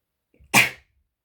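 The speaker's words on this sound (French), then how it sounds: "je crois que je vais éternuer" A woman sneezes once, a short sharp burst after a faint intake of breath, close and clear in a quiet room.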